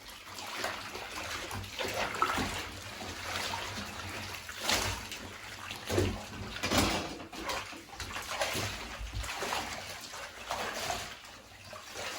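Laundry being stirred by hand in a bathtub of soaking water during laundry stripping, giving steady sloshing and trickling with occasional louder splashes, close and continuous throughout.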